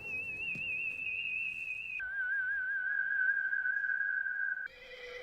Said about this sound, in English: that is an obedient horse to come for that whistle